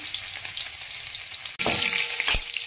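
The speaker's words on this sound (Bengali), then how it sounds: "কড়াই গরম করে অল্প সাদা তেল দিয়ে দিলাম, এবার এর মধ্যে ফোড়ন দেব রসুন, রসুন কুচি ফোড়নে দিয়ে দিলাম" Minced garlic drops into a little hot white oil in a wok: a gentle background sizzle surges suddenly into a loud, close crackle halfway through, with a brief stirring knock after.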